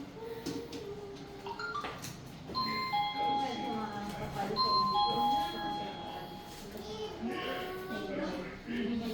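An electronic doorbell chime rings at a dental clinic, its ringing tones sounding under ongoing adult and child chatter in a busy room.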